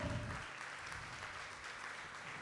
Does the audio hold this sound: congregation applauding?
yes